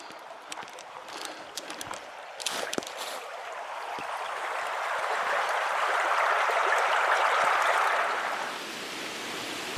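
Water flows steadily at a spring pouring from a rock pile below a cliff, where tufa forms, near a monastery; a continuous rushing hiss swells toward the end amid a few faint clicks of footsteps.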